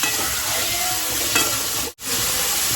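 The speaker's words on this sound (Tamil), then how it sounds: "தக்காளி வெங்காயம் நல்லா வதங்கணும்" Onions and tomatoes sauté in a pan with a loud, continuous sizzle and stirring scrapes; the sound cuts out for a split second before resuming.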